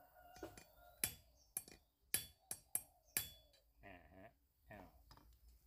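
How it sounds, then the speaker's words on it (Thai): A hammer drives a concrete nail to punch a starter hole, about six sharp, ringing metallic strikes in an uneven rhythm, close and clear, followed by a couple of brief voiced sounds. "เราจะใช้ตัวตะปูเจาะคอนกรีตนะฮะ"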